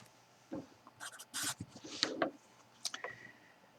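Pen writing a note, quiet scratching strokes in short irregular bursts with small pauses between, close and faint in an otherwise quiet room.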